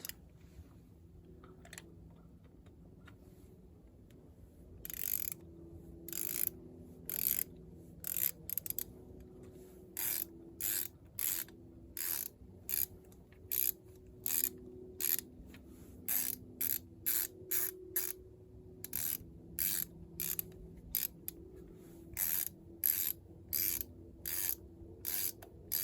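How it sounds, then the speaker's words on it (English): A ratchet tightens new spark plugs on a Mazda 3, giving bursts of sharp, rapid clicking strokes after a quiet start, repeated steadily and close by. "So now we'll switch it to the tightening and we will install it."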